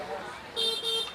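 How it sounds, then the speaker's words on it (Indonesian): Vehicle horn at a busy traditional market in Vietnam, two short bright honks in quick succession under a faint background of street noise. "Orang sini kok klakson tuh ngeselin guys."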